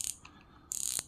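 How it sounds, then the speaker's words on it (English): A fishing reel's drag knob ratchets as it is loosened and tightened, giving quick, faint, close clicking bursts separated by a short pause. "Loosening the drag, tightening the drag."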